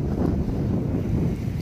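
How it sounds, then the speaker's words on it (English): Strong outdoor wind buffets the microphone despite its foam windscreen, producing a continuous low rumbling roar with no other sounds. "Sorry about the wind. I do got the wind mic, the sock on, but it's really windy today."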